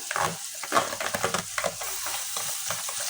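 Ginger-garlic paste goes into browned onions frying in hot oil for a beef bhuna, setting off a busy crackling sizzle with scraping stirs of a spoon against the pan, close and continuous.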